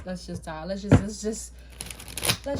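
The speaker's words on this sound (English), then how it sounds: "I just started shuffling tarot" Tarot cards are shuffled close by in quick riffling bursts while someone talks over them.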